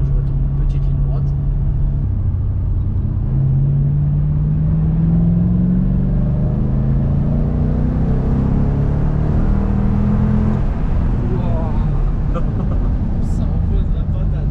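A Ford Mustang GT V8 of 300 hp accelerates from inside the car, its engine note rising in a loud steady drone over several seconds before settling, with cabin rumble throughout.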